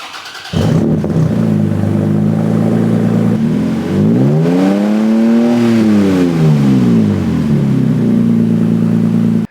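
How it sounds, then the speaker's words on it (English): A third-generation Toyota Tacoma truck with an AWE Tuning aftermarket exhaust turns over and settles into a deep, throaty idle, then revs up once in a rising and falling swell before dropping back to a steady rumble. "Let's get it started up and see how she sounds."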